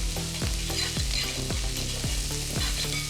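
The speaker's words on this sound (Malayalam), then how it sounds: "ഇനി നമ്മുടെ സബോള പച്ചമുളകും നന്നായി നമുക്ക് വഴറ്റിയെടുക്കാം" Sliced onion and green chillies sautéing in a pan for a Kerala potato curry, a loud continuous sizzle under rhythmic repeated stirring strokes, close by and with no voices.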